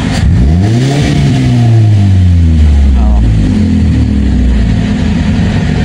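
An engine fitted with a Mohashi 2E carburetor revs up hard, loud and close, and then winds down toward idle with a falling drone that stays steady to the end.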